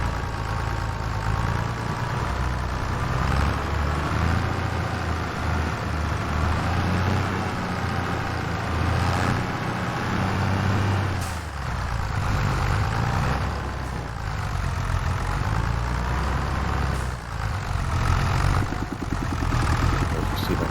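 Steady drone of a tractor engine in Farming Simulator 25, idling and running at a constant mid-pitched rumble that barely changes across the stretch, with a voice now and then over it.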